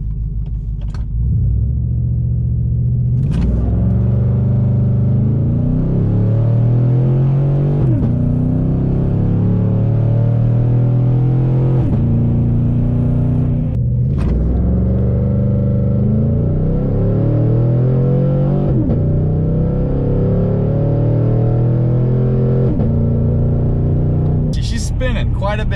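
A tuned Chevrolet Silverado 5.3 V8 pickup engine revs and accelerates hard through several gears, each rising pitch sweep ending in a shift. The engine sound is loud and close from inside the cab, with a voice talking at times.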